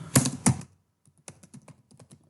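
Typing on a computer keyboard: two loud early keystrokes, a short pause, then a quicker run of lighter clicks, close and alone.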